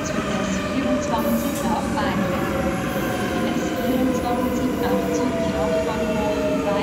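A Swiss S-Bahn commuter train rolls along on a trip toward Sisikon in the Alps, giving a steady, loud rumble of wheels and carriage noise throughout, with faint tonal squeals above it.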